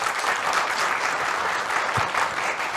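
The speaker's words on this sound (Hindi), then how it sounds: "इस बात में तो मैं भी ताली बजाऊंगी" Steady applause from an audience, a dense, continuous clatter of many hands at moderate volume, with a brief low thump near the end.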